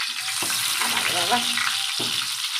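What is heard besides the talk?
eggplant frying in oil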